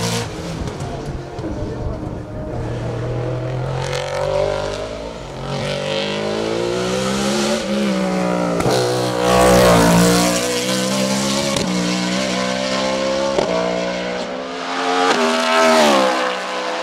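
A BMW M3 E92 race car climbs a hill at the Dunières event, its engine loud and close, revving up and dropping repeatedly through gear changes.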